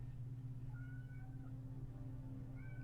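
A cat meows in a few short, rising and falling calls, fairly faint and set against a heavy, steady low hum.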